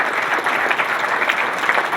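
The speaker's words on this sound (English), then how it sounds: "Let's give them a round of applause." Audience applause at a community business appreciation breakfast, a dense, steady wash of many hands clapping together at close range, sustained without pause for about two seconds with no voices standing out.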